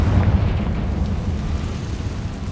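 A Confringo fire blast spell bursts in the Hogwarts Legacy video game, a loud, sustained rumbling explosion with a heavy low boom that stays dense and roaring for the whole stretch.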